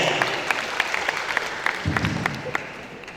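Applause from students at a student council training event for high schools, moderate clapping from a crowd with distinct individual claps and a brief low thump partway through.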